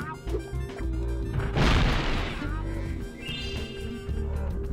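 A bomb explosion in Spyro: Year of the Dragon bursts out as a loud boom and crash midway, amid game music and chirpy effects, with a player talking.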